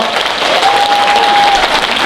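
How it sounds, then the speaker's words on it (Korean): Applause from party members at a Democratic Party district rally in Yeongdeungpo, Seoul, a dense, steady clatter of many hands filling the hall, with a faint electronic tone sustained briefly in the middle. "다시 한번 박수 한번 부탁드리겠습니다"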